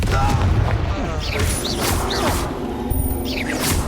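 Confringo explosive spell in the Hogwarts Legacy game, a string of booming blasts with whooshing projectile sounds and crashes in a chaotic fight, loud and repeated over several seconds.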